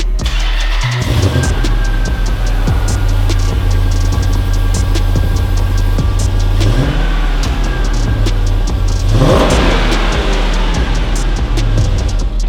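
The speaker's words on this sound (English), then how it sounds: "when you revved it, it hit about 92" A car engine runs loud and close throughout, its steady rumble rising in pitch a few times as it is revved.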